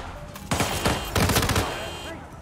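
Bursts of gunfire ring out in a Hitman freeform training session, several loud volleys of shots in quick succession over about a second, each followed by a lingering rumble, with faint background noise between them.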